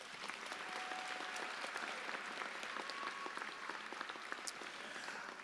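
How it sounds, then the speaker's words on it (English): A crowd applauds at the 2019 Phoenix High School graduation, dense continuous clapping from many hands that sounds fairly distant and soft, with no talk over it. "Let's give them a round of applause."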